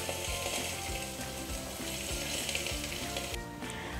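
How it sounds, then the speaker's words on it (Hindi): Uttarakhandi rot, a sweet flatbread, frying in ghee on a hot tawa griddle gives a steady close sizzle with soft crackles and occasional scraping stirs, with no voices. "इस घी को चारों तरफ रोट के हम चला लेते हैं ताकि रोट चारों तरफ से पक जाए"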